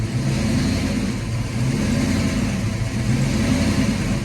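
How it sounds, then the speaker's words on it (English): The 1991 Mustang GT's V8 runs at a cold idle, a steady close rumble that rises and falls in slow surges, with no voices. "That's a pretty good idle surge right now, probably because it's cold"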